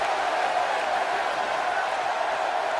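Steady crowd roar from a WWE 2K18 wrestling video game match, a dense broadband wash of cheering that holds at an even, loud level throughout with no distinct voices standing out.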